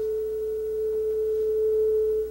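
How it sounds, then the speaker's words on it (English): One pure sine wave tone from a synthesizer, held steady and loud for about two seconds before it cuts off, alone with no talk. "That only sounded like one sine wave, though."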